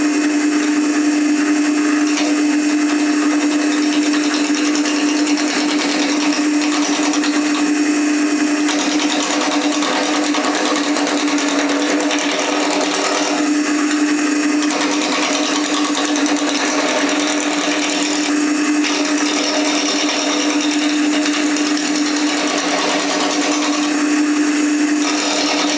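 Wood spins on a lathe while a sharpened cut gouge shapes a battling spinning top, the motor's steady loud hum running throughout with scraping cutting noise and occasional catches.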